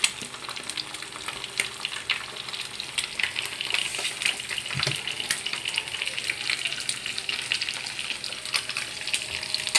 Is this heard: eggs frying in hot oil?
yes